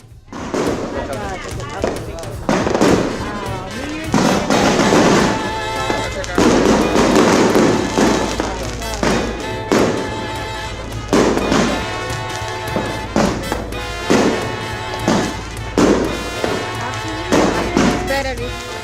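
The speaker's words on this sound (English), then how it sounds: "Then they go outside and light fireworks. The sparklers are for the children, and the big noisy fireworks are for the adults." New Year's Eve fireworks and firecrackers going off outdoors, a dense, loud run of bangs, crackles and thumps with rapid overlapping pops and a steady low rumble, continuing without pause.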